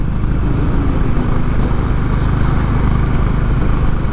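A Honda CB 350 motorcycle cruising in fifth gear while climbing a flyover, with a loud, steady engine drone and heavy wind rush that stay even throughout.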